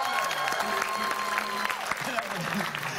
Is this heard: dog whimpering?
no